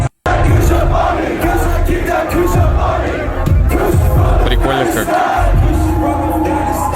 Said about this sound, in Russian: вся толпа знает наизусть текст